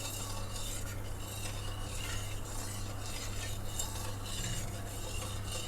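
A spoon gently circles through hot frying oil, swirling gulab jamun so they don't scorch on the bottom; soft steady scraping and faint metallic clinks ride over a continuous low hiss and hum, close and unhurried, with no one talking.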